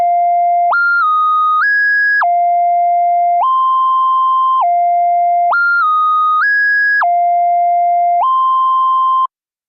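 A clean, smooth synth lead plays a simple stepped melody of sustained tones, repeating the phrase twice with no other sounds.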